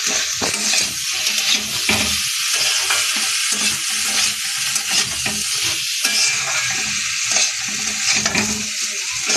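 Dal in a pan is stirred and fried, with a constant sizzle running under repeated scraping strokes of a spoon against the pan. The sound is close and fairly loud, and no one speaks.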